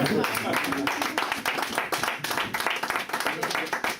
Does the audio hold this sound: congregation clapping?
yes